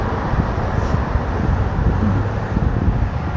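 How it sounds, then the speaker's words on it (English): Strong hot wind outdoors buffeting the microphone, a continuous broadband rumble and rush, loud and steady throughout. "It's actually very windy out too"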